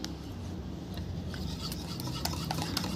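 Molasses and eggs being beaten together by hand in a bowl: a steady, close scraping and rubbing with faint rhythmic clinks of the utensil, continuous and without talk.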